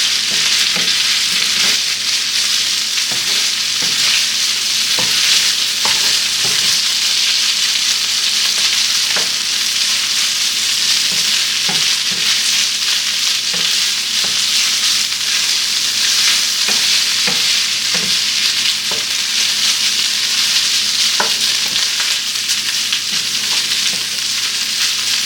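Shrimp fried rice sizzles and pops in a hot pan as it is stirred, a steady loud frying hiss with scattered sharp crackles and scraping throughout.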